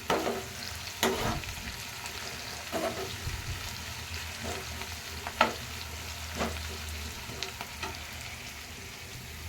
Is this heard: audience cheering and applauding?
no